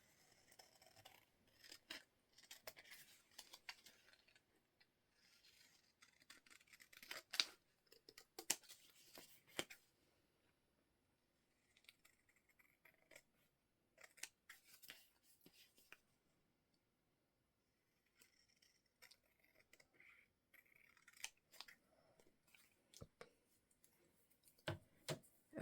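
Scissors trim paper for decorating an envelope stack, giving quiet, scattered snips and papery clicks in short bursts with pauses between, close by and faint.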